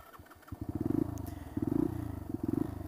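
A dual sport motorcycle engine runs close by at an off-road spot, a rough, pulsing idle that surges and rises in revs several times, loud and steady with no talk.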